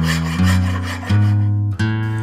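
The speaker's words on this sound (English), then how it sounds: "Now's the time to refine that, hand sand it in, get the right shape, nice smooth finish." A wooden handle for a 130-year-old axe is sanded by hand, loud, close, rasping back-and-forth strokes in a steady rhythm of about three passes, with no voices.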